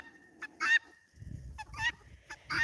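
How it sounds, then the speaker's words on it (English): Newly added guinea fowl on a homestead give several loud, harsh honking calls in repeated bursts, close by, with low rustling and handling noise between calls. "Oh, that's one of our newest guineas there."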